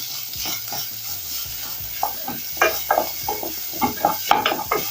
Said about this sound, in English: I'm going to add in my minced meat